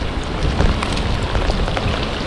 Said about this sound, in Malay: Dah 2 kali lah kena hujan ni sahabat.